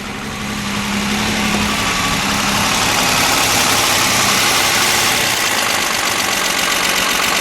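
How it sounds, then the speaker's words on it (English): A 1962 Fiat Abarth 2300 S coupe idles steadily up close, a continuous, even engine note with a faint knocking texture, holding constant for the whole stretch with no voices. "that's the regular idle there"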